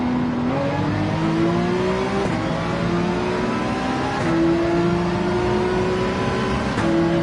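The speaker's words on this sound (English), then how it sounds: "the sound off the Ferrari, yes, is due to exhaust. But it's also due to having a unique sound because of the flat plane crank V8" A Ferrari race car with a flat-plane crank V8 laps a Gran Turismo 7 GT3 online race at Barcelona, its engine droning steadily. The pitch climbs through the gears and drops sharply at each shift.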